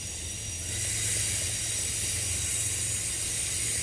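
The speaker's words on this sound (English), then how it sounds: "That's a passenger train." A passenger train passes at night in suburban Clayton and Henry County, Atlanta, giving a steady loud rumble with broad hiss throughout and no talk.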